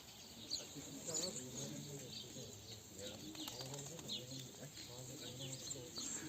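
Tumbler pigeons coo and flutter faintly in a loft, soft calls repeating against a low background hum, with people talking quietly nearby.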